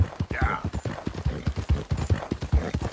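Horse hooves clip-clop at a steady walking rhythm in a video game, close and loud, with faint game voices and ambience mixed in.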